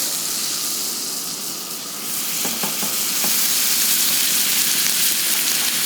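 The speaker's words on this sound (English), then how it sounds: "we're going to baste the steak" A steak sizzles loudly in a pan of olive oil and butter, a steady close hiss and crackle with a few brief clinks of a utensil partway through, no voices.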